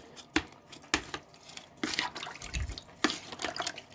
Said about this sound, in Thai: นี่เราก็จะคนให้เข้ากันก่อน คนส่วนผสมให้เข้ากัน